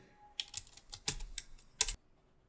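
A short burst of typing on a computer keyboard: several quick, close key clicks, with a louder keystroke near the end, like pressing Enter, then silence.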